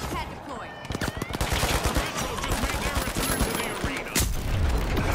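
Rapid automatic gunfire and explosions from the online shooter The Finals, dense bursts of shots with a heavy boom near the end, loud and close throughout.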